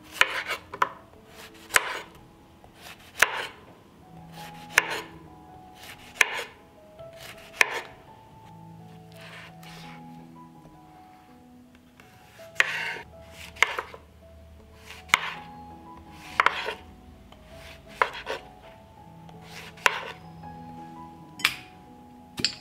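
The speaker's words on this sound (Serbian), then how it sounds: "Tikvice ću iseći na malo deblje kolutove." A knife chops washed zucchini into thick rounds on a cutting board, with sharp, close chops coming in quick rhythmic bursts separated by short pauses and a faint clink now and then.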